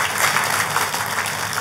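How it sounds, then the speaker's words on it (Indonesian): A church congregation applauds together in a steady, dense burst of clapping that fills the whole short moment at close range, with no talk over it. "Tepuk tangan sekali lagi yang meriah buat Tuhan kita."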